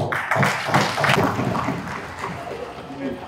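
Applause from members of an assembly at the close of a long session, steady massed clapping sustained throughout, with some murmured voices mixed underneath.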